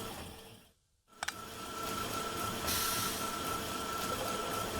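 A train rolls along in the factory-building game Factorio, a steady loud mechanical rush after a brief silent gap and a couple of sharp clicks.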